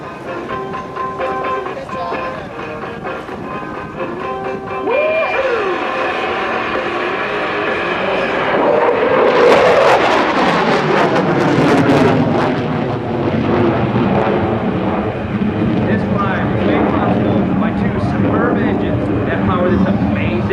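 F-15E Strike Eagle fighter jet roaring through a high-speed climb at an air show, a loud broadband jet rumble that swells and peaks midway, then sustains with heavy low roar and crowd-level background.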